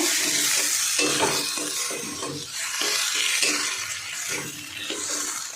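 Tomato sauce being stirred into an egg curry over low heat, a steady soft sizzle beneath repeated scraping strokes of a spoon against the pan at a regular rhythm, close and moderately loud.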